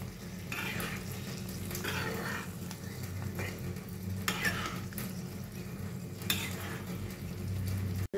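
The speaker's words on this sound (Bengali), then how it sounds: "এটা দিয়ে একটু মশলা দিয়ে কষবো" Ghugni sautéed with spices in a pan gives a continuous low sizzle, broken by a few scraping stirs of a spoon, close and even throughout.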